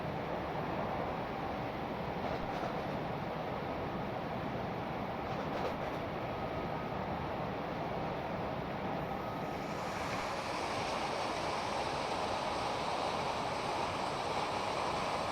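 A Class 90-hauled sleeper train on the West Coast Main Line between Carlisle and Glasgow in Train Simulator Classic gives a continuous, even rolling rumble of wheels on rails with airy wind noise, steady throughout.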